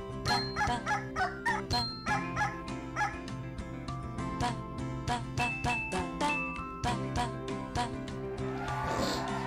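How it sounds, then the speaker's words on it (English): Cartoonish clucking and yipping game sounds from chickens in the rhythm game Rhythm Café, arriving as a steady string of short, bright, rhythmic bursts over a layer of background music, with no talking. "Chicken! Chicken!"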